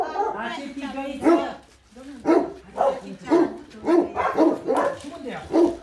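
A small dog on a vet patrol visit yips and whimpers in short repeated bursts, close by, mixed in with a person speaking gently throughout.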